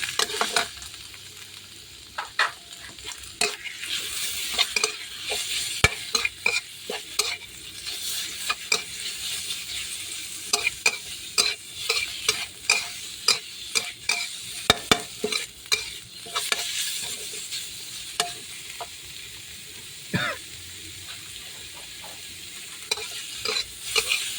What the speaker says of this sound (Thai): ผัดพริกแกงหอมนะครับ